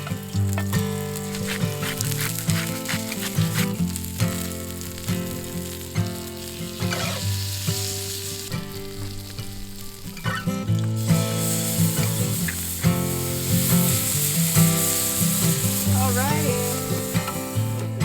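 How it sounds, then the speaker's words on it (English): Steak sizzling over an open campfire, a steady loud crackling fry that runs continuously, close up, with faint background sounds and no clear talk. "My favorite food ever is steak. And doing it over the fire tonight, so good."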